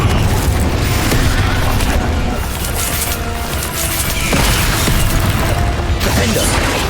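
A fiery Confringo blast spell explodes in Hogwarts Legacy, part of a loud, dense stretch of continuous rumbling booms and mechanical clatter from combat with a giant spider, with no speech.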